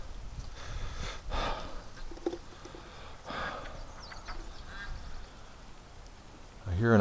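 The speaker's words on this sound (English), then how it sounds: "I hear an upset duck over there." Upset duck quacking out of doors, a few rough calls at a moderate distance over a steady background hum, with a sharper noise at the very end.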